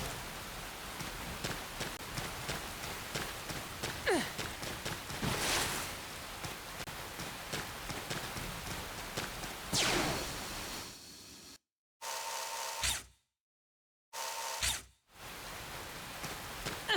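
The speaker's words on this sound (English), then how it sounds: "Well, now the rain sounds fine." Rain in the video game Xenoblade Chronicles X: Definitive Edition, a steady hiss of rainfall with some brief whooshes, which cuts out abruptly near the end with short bursts between silent gaps.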